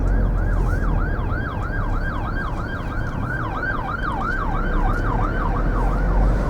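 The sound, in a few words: ambulance siren passing by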